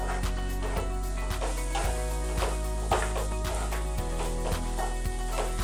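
Green pigeon peas mixture with cumin powder and lemon frying in a pan for a paratha filling, a steady sizzle broken by repeated scraping stirs, with a faint background hum and no talk.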